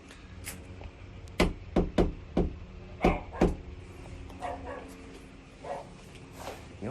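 Knuckles rap on the front door of a house in a rapid series of sharp knocks, about six close, loud raps in two groups, then quieter movement and background noise.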